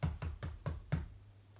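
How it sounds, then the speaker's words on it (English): Five firm knocks on a door land in an even, quick rhythm and then stop, each a dull, close thud, followed by quiet. "suddenly heard a knock on the door"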